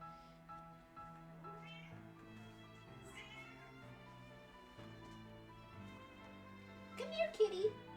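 A cat meows a few times near the end, short bright calls over quiet background music.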